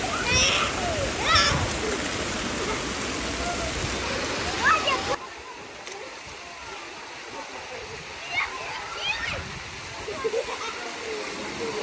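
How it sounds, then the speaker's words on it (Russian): A large, warm jacuzzi at a hotel pool in Anapa churns and bubbles with a loud, steady wash of water that drops to a softer gurgle halfway through, with voices nearby. "Вот это вот джакузи, оно большое, и оно теплее здесь, вода."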